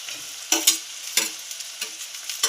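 Thick-cut green chillies, five or six, frying in oil, a steady sizzle punctuated by several brisk spatula stirs against the pan, close and clear with no voices.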